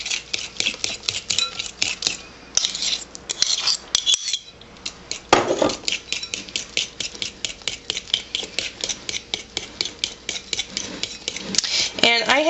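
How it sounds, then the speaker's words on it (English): Mashed banana being mixed into batter for banana bars, a fast, steady run of rhythmic utensil clicks against a bowl, continuing almost without pause and fairly close. "it says to mix in the mashed banana"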